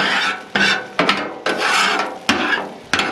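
A metal scraper drags food residue across a Blackstone griddle top in about six close, rasping strokes, each starting with a sharp catch and then trailing off.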